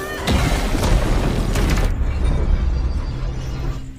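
A film explosion sound effect, a heavy booming blast with crackling debris that rolls on for a couple of seconds and then fades into a low rumble, with no talk.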